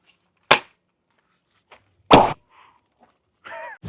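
A toy shotgun firing water and soft bullets gives sharp, close pops at intervals, two strong shots with fainter clicks and a brief mechanical whir between, no talk.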